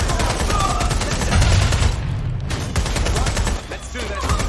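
Sustained gunfire in Watch Dogs: Legion, a dense fusillade of rapid shots and bursts running throughout at steady loudness, with a brief dip near the end, alongside faint game voices.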